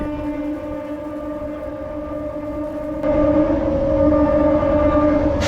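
Narasapur MEMU Express passing close by, a sustained tonal horn-like drone with steady rumbling underneath that grows louder halfway through, with no talk.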